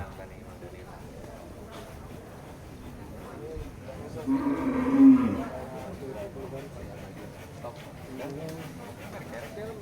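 A muscular Madura bull kept for Qurban sacrifice moos once, a deep drawn-out call from a pen at a Bogor cattle farm, heard amid ongoing background talk.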